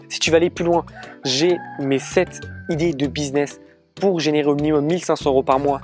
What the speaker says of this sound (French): Là, il y a les coqs qui chantent